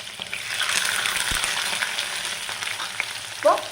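Green chillies and sliced shallots fry with a steady close sizzle in a pan, stirred throughout with soft scraping, and a brief sharper clink of the spoon near the end.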